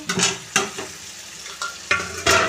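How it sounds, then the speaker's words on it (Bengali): Fried potatoes stirred into mutton curry in a pan, with a steady oily sizzle broken by several sharp scraping stirs of a spoon against the pot, close and loud. "এবার আমি ভেজে রাখা আলুটা দিয়ে দেবো।"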